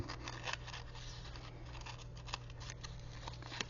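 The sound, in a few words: scissors cutting around paper ephemera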